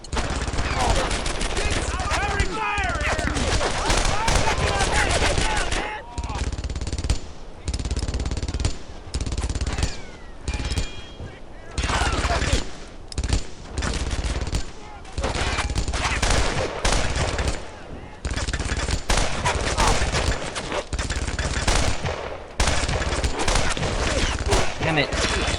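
Dense, continuous gunfire from the World War II video game Brothers in Arms: Earned in Blood, with loud overlapping bursts and rattling volleys filling the whole stretch and only brief gaps between them.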